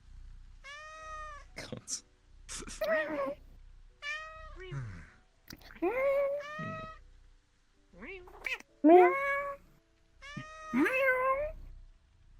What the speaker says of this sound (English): Cat to cat communication.